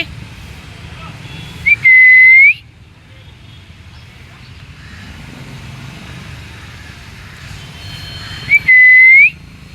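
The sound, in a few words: person whistling to call animals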